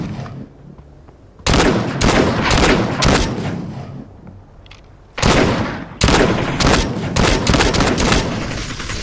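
Bursts of rapid gunfire from a free VR shooter video game, two loud volleys of repeated shots separated by quieter gaps, with no talking.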